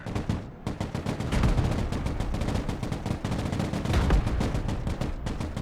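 Gunfire from the video game Broken Arrow crackles almost nonstop, dense overlapping machine-gun bursts and heavier booms layered into a loud, continuous battle din with no talk.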